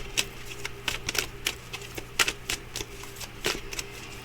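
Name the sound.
oracle and tarot cards being taken out and handled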